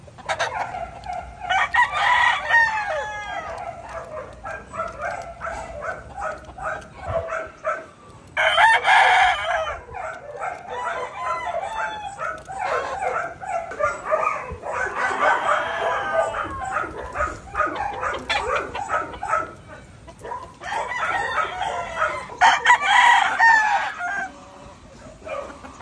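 Several gamecock roosters crow repeatedly, overlapping, with clucking hens and an occasional dog bark in the background.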